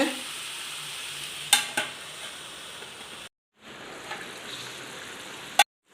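Soft, steady bubbling and sizzling of chicken simmering on low flame in a covered pan, with a few sharp metallic clinks and a brief silent gap.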